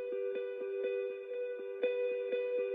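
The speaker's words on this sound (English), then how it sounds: "In addition to that, we have a guitar coming in." A filtered, plucked guitar repeats a steady rhythmic pattern with echoing delay and reverb over a sustained tone, moderately quiet and without voices.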